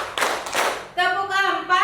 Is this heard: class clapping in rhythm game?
yes